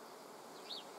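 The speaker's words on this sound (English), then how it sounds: "Flies go away. Oh, there's a wasp over there" Flies and a wasp buzz faintly outdoors, a soft steady insect drone with one slightly louder pass as an insect flies close, no voices present.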